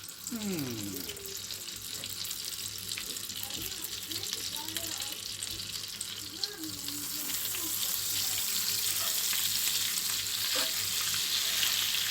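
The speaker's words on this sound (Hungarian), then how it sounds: "És most egy kis vaj és olívaolaj megy a tepsibe." Butter and olive oil sizzle in a baking tray, a continuous crackling hiss that grows louder and brighter over time. It is mixed with a running tap and clinking kitchen noises, with brief murmured voices in the background.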